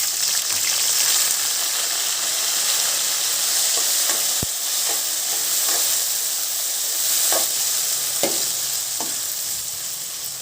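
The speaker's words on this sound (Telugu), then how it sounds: "ఈ టమాటా తరుగు కాసేపు వేయించుకుందాం." Chopped tomatoes sizzle in a pan after cumin seeds, a loud, steady, close frying hiss with occasional soft stirring knocks and pops throughout.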